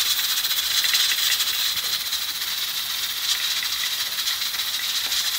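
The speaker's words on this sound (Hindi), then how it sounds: "कुकर में बन रही है दाल," A pressure cooker cooking daal on a kitchen stove gives off a steady, bright hiss of escaping steam that runs continuously for several seconds with faint rattling beneath, close to the microphone.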